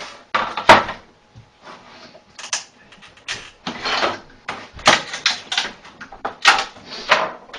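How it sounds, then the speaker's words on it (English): An X-Acto knife prying a 3D-printed plastic bearing loose from a printer build tray on a workbench: a run of sharp, irregular clicks, snaps and scraping taps, close and fairly loud, with no talking. "I'm going to go ahead and remove the bearing from the build tray with my X-Acto knife here."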